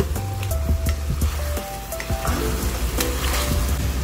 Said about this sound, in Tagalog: Hayaan lang natin na maluto yung ating chicken.